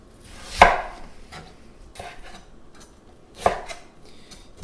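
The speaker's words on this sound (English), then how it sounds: "So first of all, we will chop the onion." A knife chops an onion on a cutting board for kimchi pancakes. A few separate close knocks land, two of them sharp and loud and others softer, spaced about a second apart over a quiet background.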